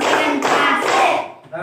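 A group of children claps together in a classroom refresher break, a dense, steady burst of hand claps lasting over a second before trailing off, with a brief extra clap at the end.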